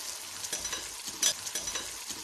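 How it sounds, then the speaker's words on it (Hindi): Lentils being fried and stirred into a spice masala in a pan give a steady broadband sizzle, with soft scraping stir strokes recurring every half second or so and one brief louder clatter midway; no talking. "अब हम इसमें दाल शामिल करेंगे और इस दाल को हम भून लेंगे।"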